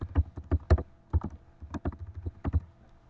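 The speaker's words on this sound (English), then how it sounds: "go ahead and type your name" Keys on a computer keyboard tap out a name in a quick, irregular burst of about a dozen soft, close clicks, with no other sound around them.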